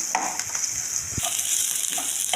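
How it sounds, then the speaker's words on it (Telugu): Ginger garlic paste frying in a little oil for a liver fry, giving a steady close sizzle with a few soft scrapes of stirring. "కొద్దిగా ఆయిల్లో అల్లం వెల్లుల్లి పేస్ట్ వేసుకోవాలి"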